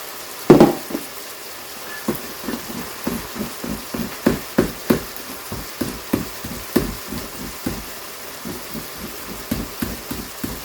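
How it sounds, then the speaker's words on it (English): Cheese is shredded on a grater at close range, a rapid series of rhythmic rasping scrapes and knocks with a faint sizzle of cooking beneath, and no talking. "I'm just going to shred down a little bit more here"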